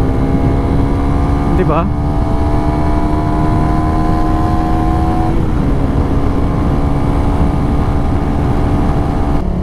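A Suzuki Raider 150 Fi motorcycle engine is held in second gear at low speed, giving a loud, steady, close whine with a rising pitch, over wind rush. The rider talks throughout.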